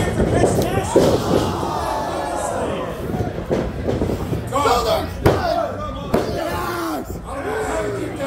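Sharp body slams and impacts on a wrestling ring canvas during a tag-team match, a few loud thuds over crowd noise and commentary.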